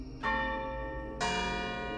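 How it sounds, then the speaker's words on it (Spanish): A cemetery bell rings twice, two clear resonant strikes about a second apart with long ringing tones that hang and decay between them, alone with no voices. "no di más que unos pocos pasos antes de que la campana empezara a sonar de nuevo"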